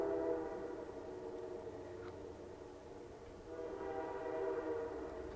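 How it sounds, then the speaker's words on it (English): A train rolls past South Royalton Station, its sustained horn blaring in long, layered tones over the low rumble of the cars, heard from some distance and swelling slightly toward the end. "Here comes a train. Here it comes."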